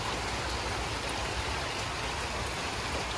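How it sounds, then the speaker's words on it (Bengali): Steady heavy rain falling, a dense continuous hiss with fine patter, loud and close, with no voices. "যেহেতু বৃষ্টি হইতেছে"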